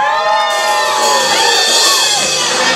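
A live-show audience at a brewery concert cheers, whoops and applauds loudly and continuously, with shouts rising over the steady clapping.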